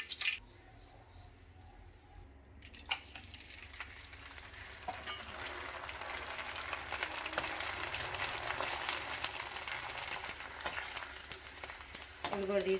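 Vadiyalu, sun-dried lentil fritters, dropped into hot oil and frying, a soft start swelling into a dense, steady sizzle and crackle that carries on at close range with light clinks of a utensil.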